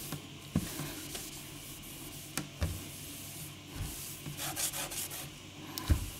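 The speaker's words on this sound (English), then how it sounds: "Wipe down the whole cabinet if you prefer." A cloth wipes down a greasy kitchen cabinet in soft, irregular rubbing strokes, close and fairly quiet, with occasional light knocks against the wood.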